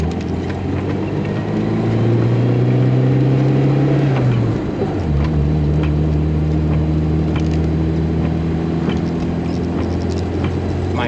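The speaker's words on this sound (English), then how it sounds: "My little old car does not like the steep hills, unfortunately." A 36-year-old small car's engine labours up steep hills, a steady loud drone with harmonics climbing as it strains, dipping briefly around a gear change before settling into a lower, sustained pull; no talking.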